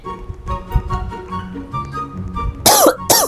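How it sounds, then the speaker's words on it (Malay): A couple of sharp, raspy coughs burst out near the end, close and loud, after a stretch of quieter background sounds. "batuk ni tak hilang ah"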